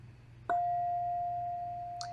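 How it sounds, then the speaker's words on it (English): A single struck singing bowl rings out with a clear, steady tone that sustains evenly and slowly fades, over faint low background hum. "So I'll ring the bowl just to end this practice"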